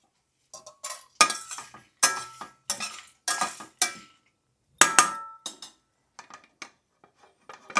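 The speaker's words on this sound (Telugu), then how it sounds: "ఇంక ఇవన్నీ ప్లేట్లోకి తీసేస్తాను." Fried lentils and seeds are scraped from a pan onto a plate with a metal spoon. Separate clinks and scrapes come in an uneven rhythm, close and fairly quiet, with short silences between them.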